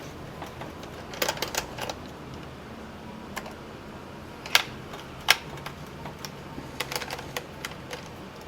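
A screwdriver works screws loose from the hinge cover of a Dell Inspiron 1525 laptop, making small sharp clicks and ticks in irregular bursts, with a few louder knocks, close up in a quiet room.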